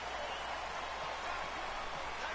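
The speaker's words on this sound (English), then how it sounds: "It is raining" Steady, even rain falls in a constant broadband hiss with no breaks, moderately loud and filling the whole moment, with no clear voices on top.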